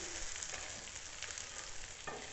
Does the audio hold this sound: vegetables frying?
yes